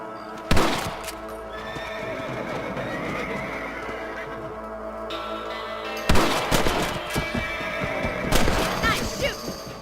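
Gunshots from shooting rabbits in Red Dead Redemption 2, two loud sharp bursts several seconds apart over horse whinnies and hoof clip-clop, with a voice talking faintly underneath.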